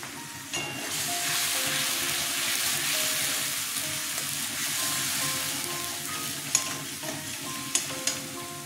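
Washed fish frying in hot oil with turmeric and dried chili powder, a loud, continuous sizzle and hiss close by, with a few sharp clicks near the end and no talking.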